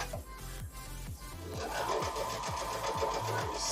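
A sewing machine stitches pieces of cotton quilt fabric close up, its needle pumping in a steady quick rhythm that speeds up midway, loud and alone.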